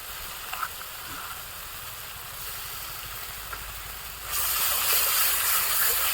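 Ground mustard paste hits a hot pan while cooking a mustard bhola fish curry in a village kitchen. A steady hiss jumps to a louder, fuller sizzle partway through, with no voices.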